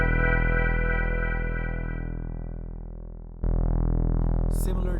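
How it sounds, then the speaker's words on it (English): Moog synthesizer patch for keyboard parts: a loud sustained tone, rich in harmonics, slowly fading, then restruck at full level with a short noisy burst near the end, played alone without talk. "and then here we have the Moog."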